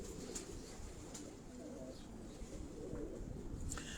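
A pigeon on a rooftop coos softly through faint outdoor background noise, giving a few low, gentle calls, with occasional brief chirps in between.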